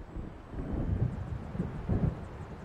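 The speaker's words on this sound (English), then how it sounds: "It seems there's a storm coming." Thunder rolls in from an approaching storm in the video game Alan Wake, a low continuous rumble swelling in two broad surges against steady wind-like noise, with no voices.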